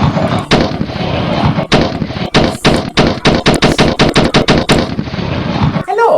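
Loud, rapid gunfire rings out continuously in close bursts, like an automatic weapon, with dense repeated shots and no pause until a brief voice at the very end.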